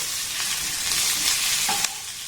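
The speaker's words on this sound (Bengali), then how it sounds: "গ্যাসের ফ্লেমটাকে একদম লো দিয়ে এই মশলাগুলোকে একটু নাড়াচাড়া করে ভেজে নিতে হবে।" Spices and grated garlic stir-fried in a pan over a low gas flame for aloo chop, a steady close sizzle with a few soft scrapes of stirring and no voices.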